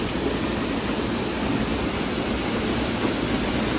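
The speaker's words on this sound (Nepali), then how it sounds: "यस्तो वाटरफल त कति छ कति छ" A small waterfall on a stream at night gives a constant, loud rushing wash of water, dense and unbroken for the whole stretch, with no voices.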